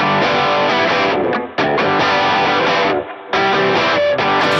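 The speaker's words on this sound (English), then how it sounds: "When the distortion is selected, the volume still retains that big headroom found in the boost and overdrive circuits." An electric guitar plays through an Analogman King of Tone overdrive pedal set to its distortion channel, producing loud, thick, sustained chords with two brief gaps between phrases.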